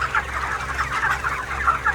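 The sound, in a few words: chickens clucking on a poultry farm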